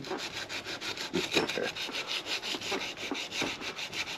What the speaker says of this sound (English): It's very intensive labor that hand sanding shit.